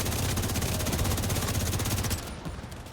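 Rapid automatic gunfire from The Division 2 rattles loudly and continuously for about two seconds, then cuts off, leaving quieter game ambience.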